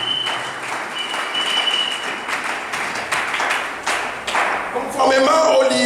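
A church congregation claps and cheers in acclaim of Jesus, a dense, loud run of applause that swells and holds, with a voice joining in near the end.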